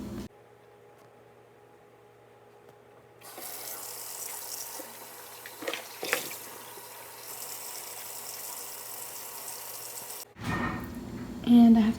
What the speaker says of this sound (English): I'm going to wash my dishes because I like washing my dishes